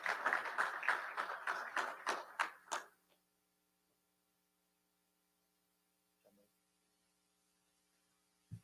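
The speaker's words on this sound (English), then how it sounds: "So please give a big round of applause to these guys." At a varsity football player banquet, the room gives a short round of distinct, evenly spaced claps for the players. The claps stop after about three seconds, leaving a quiet room with a steady electrical hum and a faint knock.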